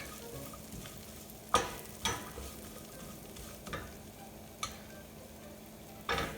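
Almonds toasting in melted butter in a pan give a soft, steady sizzle, broken every second or so by sharp scrapes and clacks of stirring, close and without voices.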